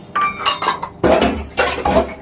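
Dishes are washed at home, with bursts of clinking metal pots, pans and cutlery knocking together in loud, close, uneven clusters separated by short pauses.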